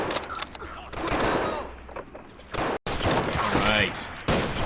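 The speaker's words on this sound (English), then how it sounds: "We got the machine guns." Rapid bursts of machine gun fire crackle through a video game battle set in 1920s Honduras, dense overlapping shots with brief pauses, loud and chaotic throughout.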